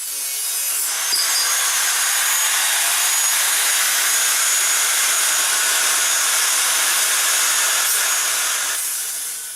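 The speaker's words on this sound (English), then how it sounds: "I've taken some of this channel or angle metal and I've cut it to the width of this ammo box, and then I cut some slots into it" A power tool cuts channel or angle metal to width and slots it for an ammo can wood stove, giving one steady, loud, harsh grinding roar that runs unbroken for about nine seconds.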